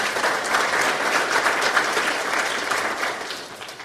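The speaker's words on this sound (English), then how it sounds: "So a round of applause, I please, for our partners on this" Audience at a community tech event in Kansas City giving a sustained round of applause, a dense, even clapping wash close by without speech.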